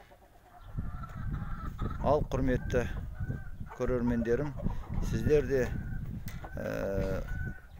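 Domestic hens out after winter cluck and squawk near and far while someone speaks over them throughout.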